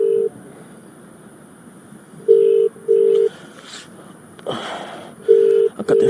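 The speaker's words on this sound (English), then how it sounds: "That Android sound effect for this iPhone." Synthesized phone-dialing tones from a spooky video game play as a few short, steady beeps spaced across the stretch, with a burst of background noise between them and no talking.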